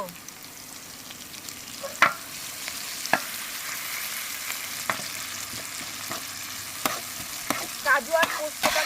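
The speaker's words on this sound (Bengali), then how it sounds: "আমরা লাল লাল করে ভেজে নেব" Cashews and poppy seeds frying in a little ghee and white oil give a soft, steady sizzle, with sharp clicks and scrapes of stirring scattered through it and a busier stretch of stirring near the end.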